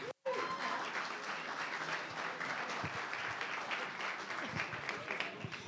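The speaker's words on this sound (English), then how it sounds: "I'll take that applause" An audience celebrating a university family business center anniversary breaks into sustained applause, a full, steady clatter of many hands after a brief silent gap at the start.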